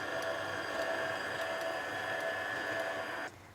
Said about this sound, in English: So now, just on a really gentle speed, we're going to whisk it all up together